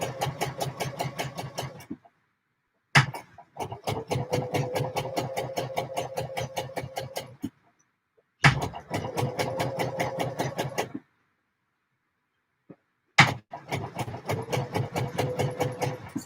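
A sewing machine stay stitches a garment in three quick bursts of rapid, evenly spaced needle clatter, each run a few seconds long and separated by pauses, heard close with no talking.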